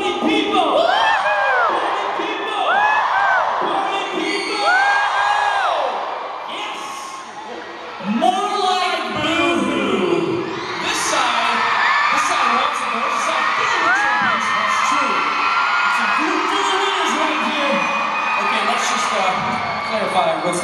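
A concert crowd at a 2012 live show in Holmdel, NJ yells a call-and-response chant in repeated, rising whooping shouts, loud and continuous with cheering throughout.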